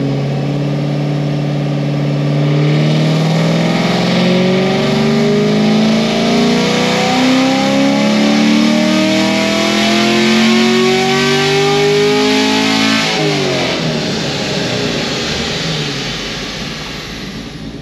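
A naturally aspirated Chevrolet Camaro SS 1LE revs hard on a dyno, its loud engine tone climbing steadily for about twelve seconds before abruptly dropping away and winding down.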